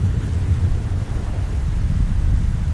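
Heavy rain with rolling thunder plays in an animated Hindi children's story, a dense, continuous low roar and rumble that stays loud and steady throughout, with no voices.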